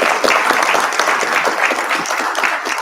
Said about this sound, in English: So huge round of applause for Alex.